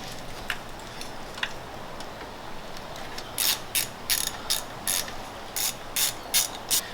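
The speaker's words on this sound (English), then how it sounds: "all we have to do is pull out these screws" A ratchet clicks as it turns out valve cover screws on an Audi B7 A4, with a few faint early clicks followed by a rapid run of sharp, close ratcheting bursts in an even rhythm, no talking.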